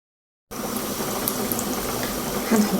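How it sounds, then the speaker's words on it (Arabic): Dried pasta for a béchamel bake dropped into a pot of boiling water with oil, salt and a little vinegar, giving a steady bubbling, watery rush with a slight surge near the end, close and without talk. "هنسقط المكرونه"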